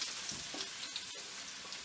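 Onion and mushroom sizzle steadily in a hot frying pan, a continuous close crackle with brief dips, no talking.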